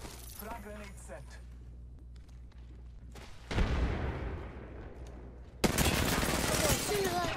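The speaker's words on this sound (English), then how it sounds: "Frag grenade set." A frag grenade detonates in a first-person shooter game, a loud sudden blast followed later by another heavy burst of noise, after a stretch of quieter game sounds with a voice talking.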